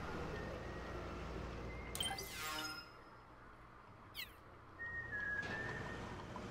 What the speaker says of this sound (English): The dude's like whistling around